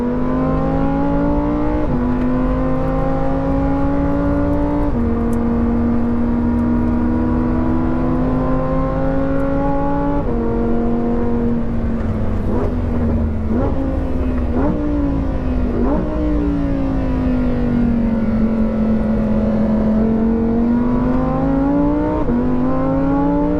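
A Lamborghini Huracan STO, a fast street-legal supercar, accelerates hard around the Sepang circuit. The engine is loud and steady from inside the car, rising in pitch and dropping sharply with each quick gear change, several shifts in a row.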